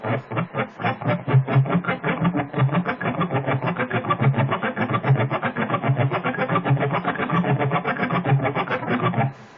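Rapid, evenly repeated sweep-picked guitar notes across the 2nd, 3rd and 4th strings in groups of three, a steady rolling pattern played cleanly for several seconds.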